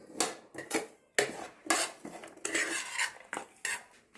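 A spoon stirs chilli powder into a dry spice mixture in a metal bowl, giving about a dozen quick scraping clinks in an irregular rhythm, close and fairly quiet, with no voices.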